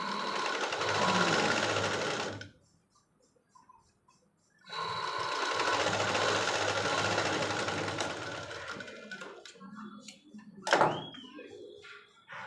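Sewing machine stitching puff hands on a tailoring job, running in two loud continuous bursts with a quiet pause between, then a few brief clunks and handling sounds near the end.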